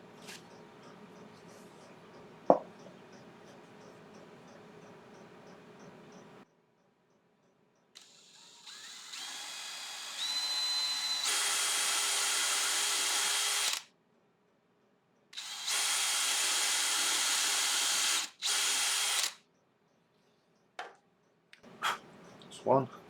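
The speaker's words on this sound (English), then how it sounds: "I have the little 3mm drill bit in the cordless drill" A cordless drill with a 3mm bit drills into wood in several bursts, two of them long and steady with short pauses between, preceded by quieter handling and tapping sounds.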